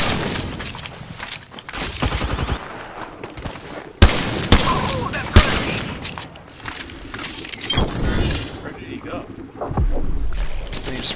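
Gunfire in a shooter video game rattles in loud bursts and sharp cracks amid splashing, wind-like game noise, with a person talking over much of it.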